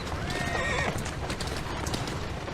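A horse in the video game Assassin's Creed Syndicate whinnies loudly and close, its rising neigh heard over steady clip-clopping hooves on a street.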